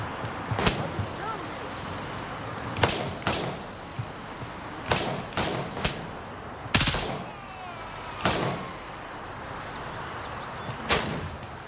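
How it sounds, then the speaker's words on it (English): Gunfire in the video game Gray Zone Warfare: single sharp shots and short bursts crack out at irregular intervals, some close and loud, others softer and more distant, over a low ambient bed. "Love how they're just shooting me."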